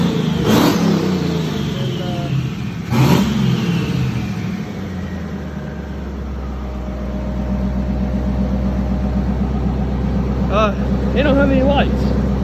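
A turbocharged LS-powered pickup truck on a dyno, with engine rumble and rising revs plus loud bangs early on, then a steady low engine drone under people talking, and a short whine near the end.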